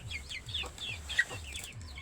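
Free-range village hens of a local desi breed cluck in a quick, repeated rhythm close by, one short squawk rising above the steady clucking.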